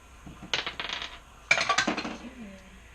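A handful of dice clatter down through a tabletop dice tower in two quick bursts, bright rattling clicks tumbling and settling, close and clear in a quiet room.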